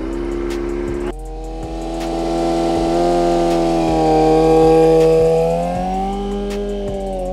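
A Kawasaki ZX-25R four-cylinder motorcycle engine drops from a rev to a steady, droning hum held at constant rpm, then swells higher and eases back down. It is loud and close with no other sounds.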